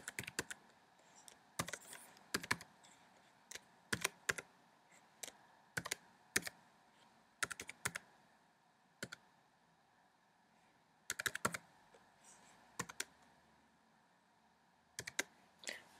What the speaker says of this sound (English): Then type in the file name.